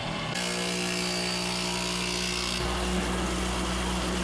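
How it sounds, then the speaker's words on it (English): A sail batten tapering machine with a 6-inch wet cutter head runs with a loud continuous whining hum, and its tone shifts partway through as the cut changes. "uses a 6-inch wet cutter head to put the perfect taper on them"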